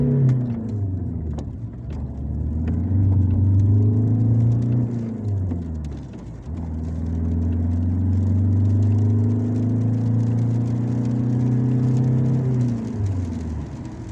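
A turbocharged Audi engine accelerates in two pulls, its droning note climbing steadily, dipping briefly at a gear change, then climbing again. The sound is loud and close, as if heard from inside the car.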